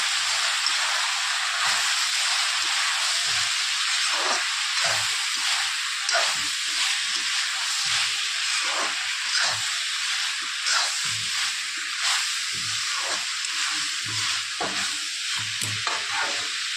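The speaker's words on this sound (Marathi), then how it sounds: "आणि थोडीशी कोथिंबीर पण थोडीशी टाकत आहे मी आता याला छानसं परतून घ्यायचं" Green beans and potatoes with salted fish sauté in a pan, a continuous close sizzle broken by repeated scraping stirs at an irregular rhythm, with no talking.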